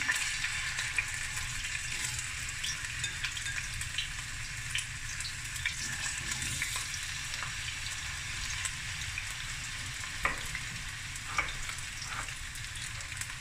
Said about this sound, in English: I'm gonna let the potatoes fry first